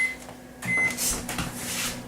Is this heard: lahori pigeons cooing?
no